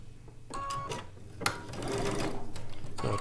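Sewing machine stitching quilt strips together, a sequence of short stitching bursts and clicks followed by a longer, steady rhythmic run of needle strokes, close and moderately loud.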